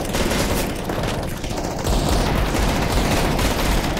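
Rapid gunfire from Counter-Strike: Global Offensive zombie escape on the ze_saw map, a dense continuous clatter of shots and bursts filling the whole stretch, with no talking.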